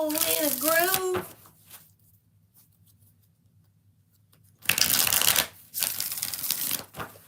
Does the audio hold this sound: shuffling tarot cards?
yes